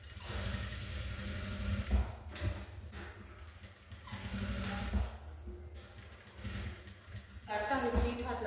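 A sewing machine stitches the main fabric with its right side placed, a low steady mechanical whir running through most of the stretch with a few stronger bumps, partly under a voice.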